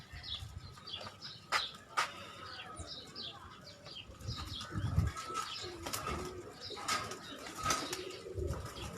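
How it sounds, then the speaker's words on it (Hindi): Pigeons coo on a rooftop in low, soft repeated calls with occasional wing flaps and faint chirps, fairly quiet and close, with no talking over them. "कबूतर।"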